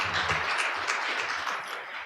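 Audience applause at a maritime and fisheries outlook conference's shipping and port logistics session, welcoming a presenter to the stage: a steady, dense wash of many hands clapping, sustained throughout with no voices over it.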